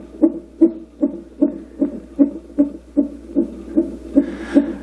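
A Roffie white noise sound machine plays a steady heartbeat track: about a dozen evenly spaced, soft double thumps, loud and close, with a faint hiss building toward the end.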